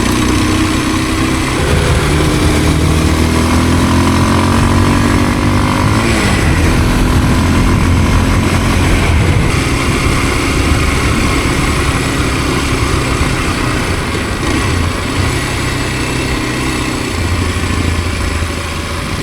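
A Kawasaki KLX230S motorcycle engine drones loudly and steadily while riding a graded sandy track, its pitch rising and falling with throttle changes, with no talking over it.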